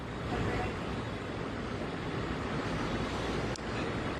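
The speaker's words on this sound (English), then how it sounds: "We've seen some gusts in the 20 to 25 mile an hour range here over just the last 20 minutes or so" Storm wind gusting hard at an outdoor spot in Brevard County, Florida, heard as a steady, loud roar of broadband wind buffeting the microphone with surf-like rushing throughout, and a brief dip near the end.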